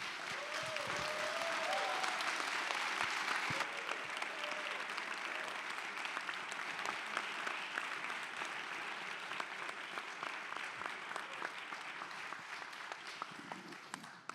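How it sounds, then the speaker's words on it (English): A long, sustained round of applause from a standing crowd at a Black footwear forum homecoming event, dense clapping with a few shouts early on, slowly thinning toward the end. "let's get this man a round of applause"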